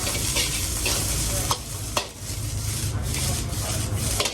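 Shredded cabbage and carrot fry and get stirred in a hot pan for Sri Lankan chicken cheese kottu, with a steady close sizzle and scraping stir strokes that punctuate the hiss a few times.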